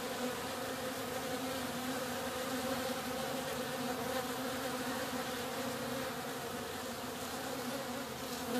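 Honeybees clustered outside a hive during a trap-out in Florida make a continuous, dense buzzing hum that holds steady and fairly close throughout, with no voices.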